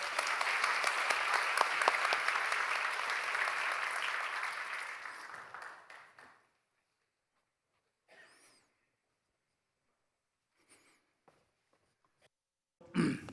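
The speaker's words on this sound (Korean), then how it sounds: "박수로 우리 환영해 주세요." An audience in a church gathering claps steadily to welcome a speaker back from a Madagascar trip. The applause is full and even for about six seconds, then fades to near silence with a few faint rustles.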